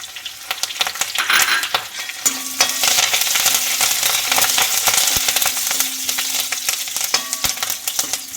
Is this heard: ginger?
yes